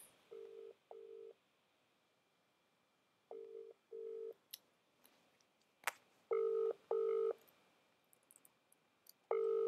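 A phone rings out on an outgoing call to a friend, sounding pairs of steady ringback tone bursts separated by pauses, fairly faint with occasional clicks in between and no talking.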